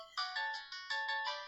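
A phone ringtone for an incoming call plays a bright, repeating chiming melody in clear pulses, close and fairly quiet, with no talking over it.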